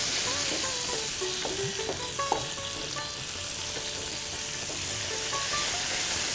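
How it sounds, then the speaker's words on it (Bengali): Tomato for chholar dal fries in a pan with a loud, continuous close sizzle and occasional light stirring clicks, with no clear talking. "এবার আমি টমেটোটা দিয়ে দেবো।"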